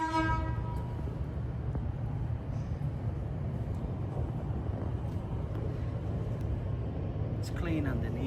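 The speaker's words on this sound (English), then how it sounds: "This is the air horn." The air horn on a restored 1980 Jeep CJ-7 with a V8 swap gives a short, loud, tonal blast at the start. A low engine rumble then carries on beneath a man's speech.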